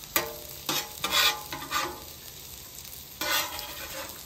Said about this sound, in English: Now that we've fried our bacon to a pulp